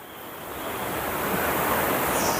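Foaming rapids on the fast-flowing Kalindi river in Wayanad produce a close, dense rush of water that swells slightly in loudness and continues without pause or speech.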